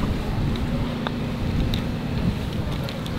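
Wind blows across the Victoria golf course at Vilamoura, Portugal, buffeting the microphone with a steady low rumble and a constant hiss, with no voices.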